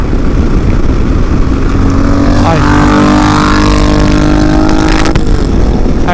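A passing vehicle revs hard above 4,700 RPM, heard from a moving 2019 Yamaha Super Tenere: a rising then falling engine whine over constant loud wind and engine roar.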